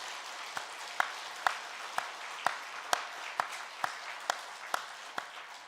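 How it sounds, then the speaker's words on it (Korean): A church congregation claps together in a steady, even rhythm, with about a dozen unison beats over a soft room hiss and no voices. "우리 모두를 위해서 한번 감사와 하나님께 영광의 박수 올려드리겠습니다"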